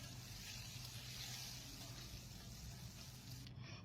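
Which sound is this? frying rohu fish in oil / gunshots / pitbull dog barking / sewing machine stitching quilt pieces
frying rohu fish in oil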